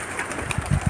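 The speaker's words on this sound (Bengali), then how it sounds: "এই দেখেন কবুতর, দেখছেন কবুতর" Domestic pigeons kept for sale at a home loft coo in three or four soft, low pulses that cluster near the end of a brief, quiet moment.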